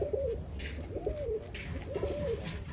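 Pigeons coo in repeated soft, rolling phrases, several calls over a few seconds against a steady low background hum, fairly close and clear with no voices.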